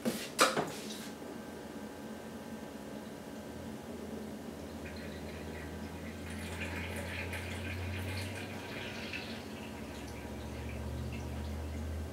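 A short splash at the start, then a soft, steady trickle of water pouring into a container of sourdough starter, low and close, with no speech.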